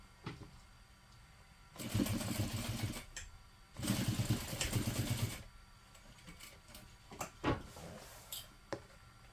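A sewing machine bastes a straight seam with a quarter-inch allowance, running in two steady whirring bursts close by, each lasting over a second, with quiet pauses and a few light clicks between.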